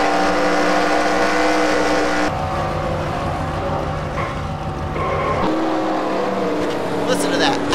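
Onboard engine of a Chevy stock car in a racing video game, droning steadily and loud throughout while the car spins through the grass at Charlotte, pitch shifting as the throttle changes.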